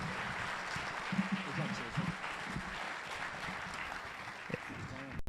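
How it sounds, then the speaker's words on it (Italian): An audience applauds candidates at a public meeting in Vittorio Veneto, a steady, fairly distant wash of clapping over several seconds with faint voices underneath. "chiedo un applauso per i candidati"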